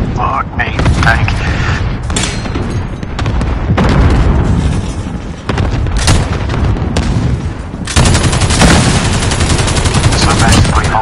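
Heavy video game combat with a tank rumbles on: loud bursts of gunfire, booming explosions and mechanical clatter run almost nonstop, with voices talking throughout.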